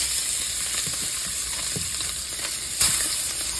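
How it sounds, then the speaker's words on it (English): Chicken pieces sear skin side down in a hot pan, a steady close sizzle and crackle that runs throughout, with a few soft shifting clicks and a brief louder hiss near the end, and no voices. "I'm putting them in because I want them seared."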